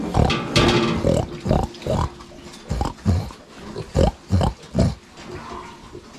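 Weaned piglets, six of them just given injections, squeal and grunt in short loud bursts about every half second, close by.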